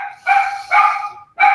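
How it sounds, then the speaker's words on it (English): A dog at home barks three times in quick, loud bursts with short pauses between, close to the microphone. "Sorry, barking dogs. We have 4, so there's always a dog barking."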